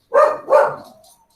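A dog gives two sharp, loud barks in quick succession, close by, with a short fading tail after the second and no talk over them.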